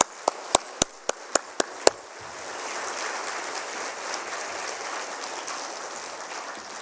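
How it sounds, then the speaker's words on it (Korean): Congregation at a church New Year healing revival welcoming the preacher: several sharp isolated claps at first, then a broad wash of sustained crowd applause filling the room steadily to the end. "나오실 때 우리 또다시 뜨거운 박수로 환영하겠습니다."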